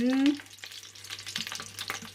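Food fries in a white-bottomed pan, a soft crackling sizzle with a brief scraping stir at the start, fairly quiet and close.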